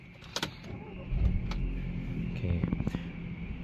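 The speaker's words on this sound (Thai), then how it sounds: "เดี๋ยวสตาร์ทรถกันนะครับกุญแจนะจิ้มเข้าไปนะครับ" Keys click, then a 2013 Volkswagen Beetle with automatic transmission cranks and catches, settling into a low idle rumble close by.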